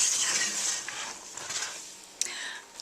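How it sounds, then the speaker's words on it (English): Cinnamon almonds being stirred in a pan, giving a soft continuous scraping and gentle clinking of nuts against metal, with a sharper knock of the spoon near the end, close by and fairly quiet. "You just have to keep stirring."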